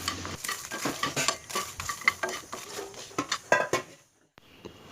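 Coriander, cumin and mustard seeds dry roast in a pan with chillies, giving a dense run of scraping and clattering as a spoon stirs them, then a quiet pause and a faint hiss.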